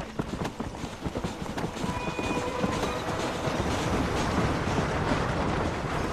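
A train in the video game Red Dead Redemption rumbles past with rhythmic clattering wheels and a faint whistle tone, loud and continuous from start to finish.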